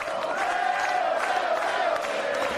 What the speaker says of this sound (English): listen to the crowd rally behind the generic luchador